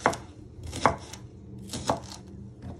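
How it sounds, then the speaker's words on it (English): A knife slices through a shallot on a cutting board in a kitchen, giving three or four distinct, crisp chopping knocks spaced about a second apart, quiet and close. "So we're just slicing our shallot."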